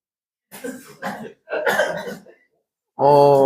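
A person coughs three times in quick, harsh bursts, loud and close, followed by a short voiced sound at the end.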